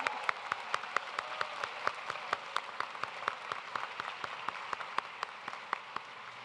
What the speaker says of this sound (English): Please also join me in a round of applause for our hooders